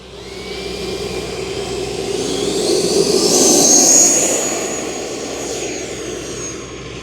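An E-flite Viper 90mm electric ducted-fan RC jet takes off from a runway with a loud, whooshing high-pitched whine that swells to a peak near the middle and then eases off as it climbs away, heard alone.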